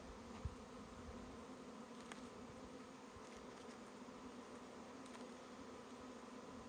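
Honeybees in an opened hive hum in a dense, steady buzz with no break, a continuous faint drone from many insects close by.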